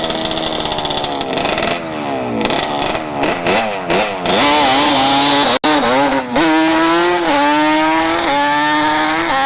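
A dirt bike at a drag strip during test-and-tune racing, its engine revving loud and close with rising pitch through rapid gear changes, one sharp cut near the middle, then a steady high-revving pull.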